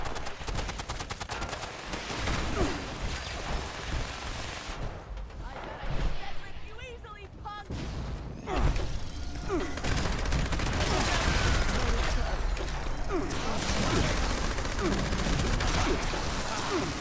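Gunfire in Fallout 76 crackles in dense, overlapping bursts of shots and automatic fire, loud and continuous for most of the stretch, with a voice talking over it.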